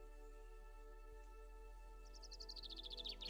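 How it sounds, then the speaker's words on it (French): Birdsong for relaxation: after a quiet stretch of low hum, a quick string of high chirps enters and grows louder toward the end, with no voices. "je peux mettre les chants d'oiseaux"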